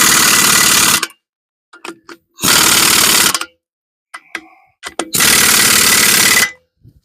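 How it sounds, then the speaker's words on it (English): An impact wrench hammers on car lug nuts during wheel bearing work, with three loud, close, rattling bursts of about a second each, separated by quiet gaps holding faint clicks. "Now I don't usually like finishing up lug nuts with the impact"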